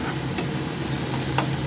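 Onion paste sizzles in hot oil in a pan, a dense, even, crackling hiss that runs throughout at close range, broken by two brief stirring scrapes.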